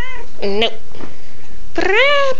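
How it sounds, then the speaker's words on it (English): A pet cat meows at close range: one short meow, a pause, then a longer rising, drawn-out meow. A person speaks briefly in between. "Well, that was my cat"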